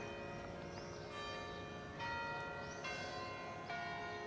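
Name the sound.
church bells ringing in Braga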